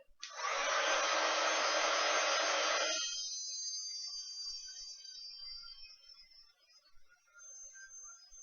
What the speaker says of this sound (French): Je vais sécher un petit coup avec le heat gun parce que c'est collant.